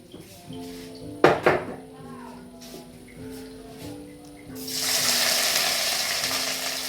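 Ginger garlic paste drops into hot coconut oil in a pan, with a couple of utensil clanks first, then a steady hissing sizzle that swells and holds, over soft background music.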